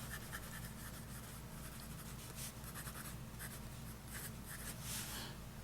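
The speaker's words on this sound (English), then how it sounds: "So let's go ahead and give you a writing sample of this thing." A Russian-made BENU Briolette fountain pen writing on paper, faint continuous scratchy strokes in short bursts over a low steady hum, close and quiet with no speech.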